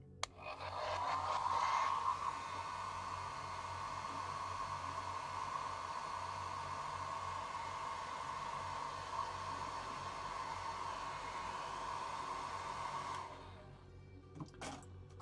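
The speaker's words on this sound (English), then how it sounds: "Hairdryer, sorry." A hair dryer runs steadily for about twelve seconds in a hobby workspace, a loud even whooshing hum with a brief surge at switch-on before it cuts off, followed by a few faint clicks.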